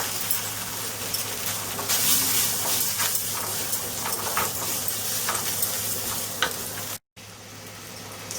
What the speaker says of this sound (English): I make sure that I roast the onion a little bit.